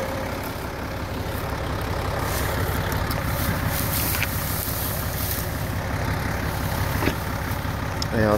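A tractor engine runs at a steady idle-like drone while a hay baler, missing a couple of belts, turns out bales; the sound is continuous, close, and moderately loud, with no clear breaks.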